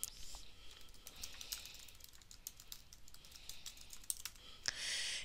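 Typing a file name on a computer keyboard, a quick run of soft close key clicks, fairly faint, followed by a brief louder click and hiss at the end, with no talking.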